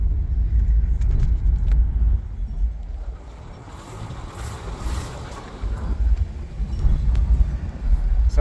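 An old bugeye car runs nearby with a low, rumbling engine drone that swells and eases as it drives, and a few knocks and rattles break through the steady throb.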